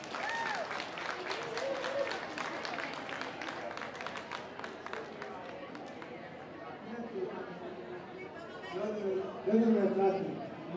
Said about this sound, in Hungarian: Tapsoljuk meg őket!